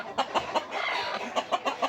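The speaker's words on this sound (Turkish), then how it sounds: "Bu Zonguldaklı tavuk." Repeated clucking from a Zonguldak hen, a dominant, heavily built bird in a flock, with a run of close, fairly loud clucks through most of the stretch and no talking.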